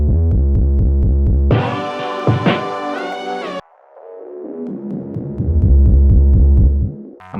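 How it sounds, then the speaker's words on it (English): A deep, booming 808 bass pattern repeats in a loop, sliding in pitch with echoing delayed repeats, broken by a brief brighter synth burst midway. "So I looped the final 808 slide I did and made it into like a delayed kind of sound."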